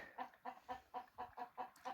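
A chicken clucking in a steady series of about eight short, evenly spaced clucks, fairly close and moderately loud, with no talking.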